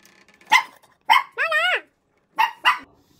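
A dog named Paula barks sharply several times at close range, with short single barks and a drawn-out yowling howl in the middle, no talking over it.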